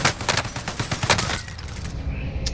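Gunfire in the multiplayer shooter Call of Duty: Modern Warfare, a rapid run of sharp close shots over roughly a second and a half, then quieter background noise.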